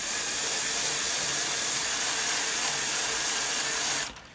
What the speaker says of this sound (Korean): L모터 하나 가지고 구동 중입니다